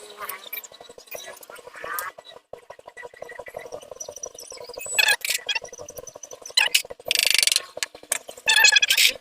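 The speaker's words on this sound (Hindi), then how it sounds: "यहाँ पर 10 नंबर का बोल्ट को ओपन करना है" A ratchet wrench loosens a 10 mm bolt before the cylinder head comes off a Honda Activa scooter engine. Rapid, close ratcheting clicks come in stretches, mixed with louder metallic rattles, while someone talks over them.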